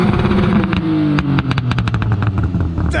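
A tuned BMW E46 revs loudly right up close, its exhaust firing a rapid string of sharp pops and crackles over the engine's growl.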